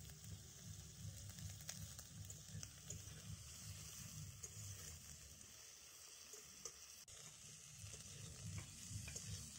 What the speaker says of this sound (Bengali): বেগুনটা খুব ভালো করে তেলের মধ্যে কষে নেওয়া হয়ে গেছে।